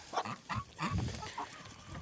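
Farm geese honk on a village farmstead in Ukraine, a few short, nasal calls in quick succession followed by softer clucking, fairly close and alone without talk.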